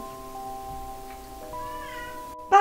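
A kitten meows once, a short, fairly loud cry heard at close range at the end of a quiet indoor stretch with a faint steady hum.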